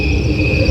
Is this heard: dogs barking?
no